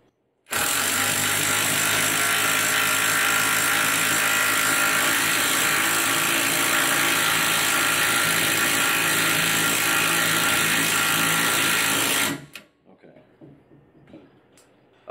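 An Ingco impact driver drives a screw, making a loud, continuous, harsh hammering whir that holds for about twelve seconds, then stops abruptly, leaving faint ticks behind.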